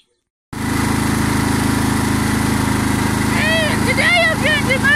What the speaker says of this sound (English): today I'm going to mow the lawns